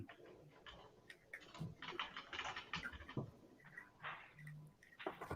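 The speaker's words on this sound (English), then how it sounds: "Who's typing?" Someone types on a computer keyboard during an online chat, producing faint, irregular clicks and clacks in short bursts, quiet and close, with no speech.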